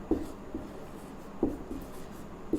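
Chalk or marker strokes on a board during a Hindi grammar class, a few short scratchy taps and scrapes in an uneven rhythm, close and moderately quiet over faint room noise.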